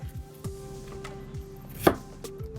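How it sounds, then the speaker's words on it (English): A knife chopping onion small on a cutting board for fried spring rolls, a handful of sharp close taps at an uneven pace, one louder thud near the end, with no talk. "Right now, just cut it small, as small as possible."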